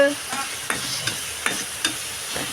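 Onions stirring and frying in a pan for egg curry, with a steady soft sizzle broken by several sharp scraping stirs at regular intervals, close and moderately loud with no talking.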